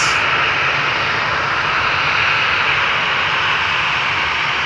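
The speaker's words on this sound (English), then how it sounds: "737-700, KLM Flight 1443 going to Aberdeen." A KLM Boeing 737-700 departing Amsterdam Schiphol on the Polderbaan runway, its jet engines a loud, steady broadband roar holding for several seconds with no voices.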